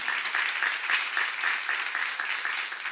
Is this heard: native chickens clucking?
no